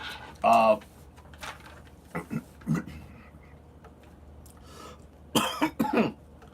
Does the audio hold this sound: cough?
yes